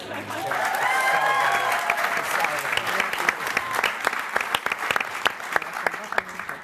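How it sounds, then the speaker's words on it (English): Applause from a large audience at a PaleyFest television panel, swelling and sustained, with a murmur of voices and some cheering underneath as the clapping continues. "The executive producers, this amazing team that's brought us such joy and fear, a round of applause."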